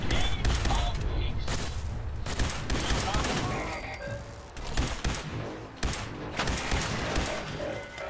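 Rapid bursts of video game gunfire from Fallout 4 sound in loud, repeated volleys with heavy mechanical clatter, dense and continuous across the whole stretch, with game effects layered underneath.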